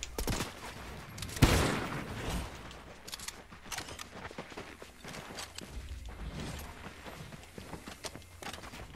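Shotgun fire in Fortnite during winter play: one loud blast near the start, then scattered softer thuds and steps over a busy game background, with no voices.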